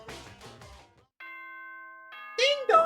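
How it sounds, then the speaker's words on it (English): An electronic doorbell gives a single steady two-tone ding-dong chime, clear and moderately loud, with people talking just before and just after it. "Ding dong, bing bong."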